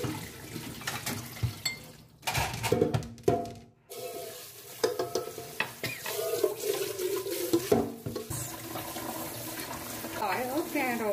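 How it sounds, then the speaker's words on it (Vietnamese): Garlic and chili being rinsed at a sink under running water, splashing and trickling with handling clatter, a few sharp knocks, and water swirling in a bowl, close by. "Tỏi ra rửa sạch tỏi với nhiều lần nước rồi đó"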